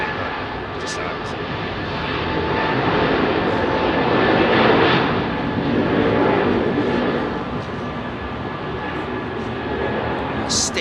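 A Cathay Cargo Boeing 747-8F freighter departing London Heathrow into a strong headwind, its four engines a loud, sustained roar that swells to a peak midway and then settles, with faint tonal whines running through it.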